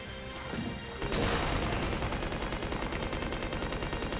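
Rapid gunfire from the survival horror game Resident Evil Code Veronica X, a dense, loud, continuous burst of shots that starts after a brief quieter lead-in and runs steadily with no talk over it.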